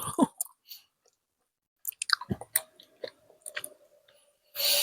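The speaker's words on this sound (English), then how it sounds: "I know I should stop chewing because it's annoying me" Chewing food close to the microphone, with soft wet mouth sounds and small crunches in irregular bursts separated by short quiet gaps, heard alone without talk.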